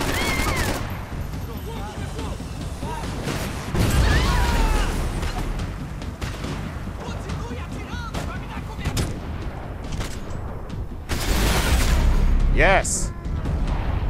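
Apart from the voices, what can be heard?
gas station blown up in video game Max Payne 3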